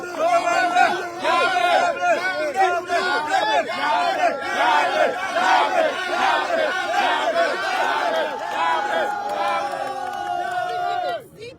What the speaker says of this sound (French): On va applaudir pour le commandant Yabré.